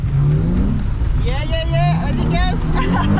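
A car engine revs and roars during a drift, loud and sustained at close range, while excited voices talk and shout over it.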